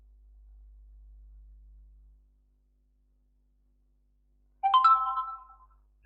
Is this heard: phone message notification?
yes